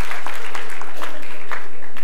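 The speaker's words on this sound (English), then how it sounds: "Give yourself a big round of applause." Indoor audience at an inclusion summit talk applauds, a dense burst of clapping filling the short moment on its own, fairly loud and close.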